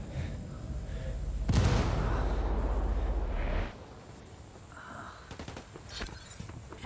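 A frag grenade bursts amid gunfire in Ghost Recon Wildlands: a heavy booming blast with a rumbling tail lasting a couple of seconds, followed by scattered sharp gunshots and a few quieter cracks.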